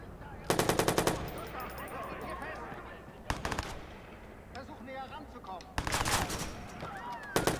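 Bursts of rapid automatic gunfire in the video game Watch Dogs come in four short, loud volleys separated by quieter stretches, with a voice faintly audible in between.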